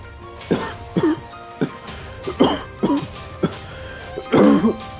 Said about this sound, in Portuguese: É uma tosse, certo?